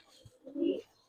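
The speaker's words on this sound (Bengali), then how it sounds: "এটা টাইগার গিরিবাস।" A tiger-patterned Giribaz fancy pigeon at a pigeon farm gives a short, low cooing call lasting under a second, fairly close and otherwise quiet.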